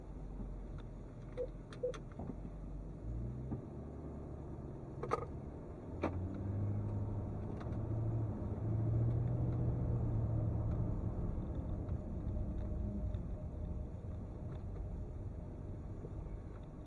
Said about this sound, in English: Just waiting on this car passing.